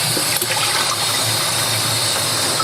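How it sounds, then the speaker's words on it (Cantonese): Tap water runs in a strong, steady gush over a whole chicken being rinsed clean in a kitchen sink, loud and close, with no talking. "大家聽到嗰啲水聲係我沖翻乾淨佢嘅"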